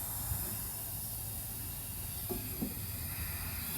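Propane escaping from the valve of an upside-down 1 lb cylinder during filling makes a low, steady hiss that runs throughout, with a couple of faint clicks partway through.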